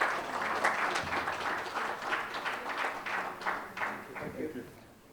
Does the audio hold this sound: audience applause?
yes